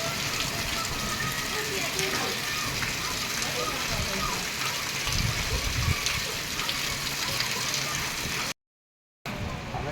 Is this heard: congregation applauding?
no